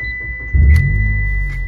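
A car engine fires up after a brief quiet moment, catching abruptly and settling into a deep, steady idle rumble close by, with no talking.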